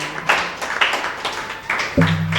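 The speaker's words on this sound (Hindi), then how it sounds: "तालियां हो जाए, तालियां।" Audience clapping at a Hindi poetry recital, a few loose, uneven bursts of claps close by, ending in a short electronic tone.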